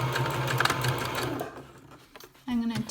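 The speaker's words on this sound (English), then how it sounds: "And now I'm going to back stitch." A sewing machine back stitches along a coiled rope basket, its steady motor whir running close and loud, pausing briefly before a short burst resumes.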